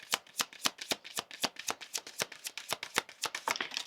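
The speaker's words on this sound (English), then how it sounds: "Let's get you some oracle cards here." Oracle cards riffled and shuffled by hand in quick, steady bursts of crisp flicks, close and fairly soft, with no talking.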